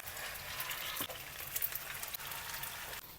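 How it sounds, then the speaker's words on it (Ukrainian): Steady crackling sizzle of meat patties frying in a hot pan, with a few brief clinks and shifts partway through, no talking. "Так, смажимо наші котлетки."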